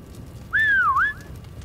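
A single loud whistle in the Call of Duty: WWII online multiplayer game rises, dips and bends back up over about half a second, clear above a low ambient game bed.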